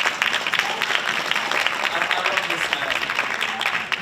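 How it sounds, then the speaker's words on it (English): Steady, loud applause from an audience at a talk show and history bee event, continuous dense clapping lasting a few seconds. "give him a round of applause"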